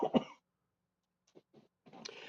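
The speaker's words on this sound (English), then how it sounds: "Sorry about the cough." Two quick close coughs open the clip, followed by a short pause and then soft throat clearing and faint breathy sounds.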